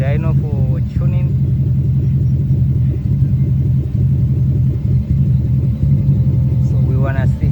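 A BMW E30 325i with a swapped-in Lexus 3UZ V8, freshly dyno-tuned, idles with a loud, steady, deep burbling rumble from close by. People talk over the engine.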